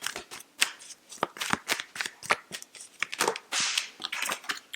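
Tarot cards shuffled by hand in quick repeated riffles and slaps, close and crisp, a steady rapid rhythm of flicking bursts for a few seconds with no talk.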